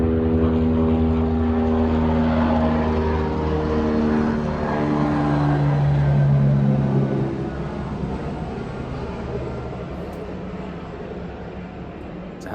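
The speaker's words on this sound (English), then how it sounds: "It's a helicopter." A helicopter passes overhead, its loud, steady rotor and engine drone filling the outdoors before slowly fading as it moves away.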